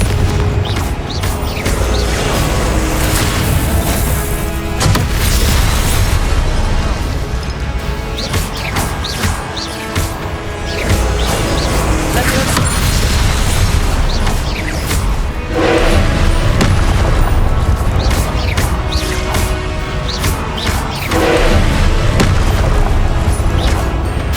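Repeated fire-spell explosions in the Hogwarts Legacy video game, loud booming crashes and bursts going off in dense succession over continuous combat noise.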